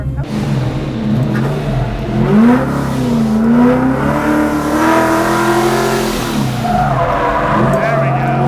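A car drifting at a Ford festival, its engine held near 6,000 RPM with a handbrake turn, gives a sustained rising and falling engine whine throughout, with tire noise and someone talking over it.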